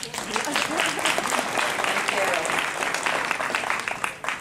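A crowd claps steadily for several seconds, a dense sustained patter of many hands close by with a murmur of voices underneath.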